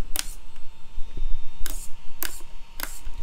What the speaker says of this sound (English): You should hear your servo move too.